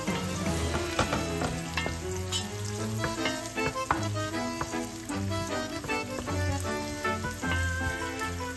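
Onions fry in a pan for lechon paksiw, a lively close sizzle with crackles and frequent clatters of a spatula stirring against the pan in an uneven rhythm; background music plays underneath and no one speaks.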